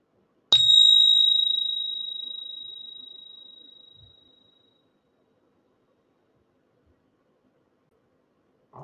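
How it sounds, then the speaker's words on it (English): A meditation bell is struck once in a quiet room and its clear, bright tone rings out and slowly fades over about four seconds, followed by near silence. "And in a moment, I will ring the bell."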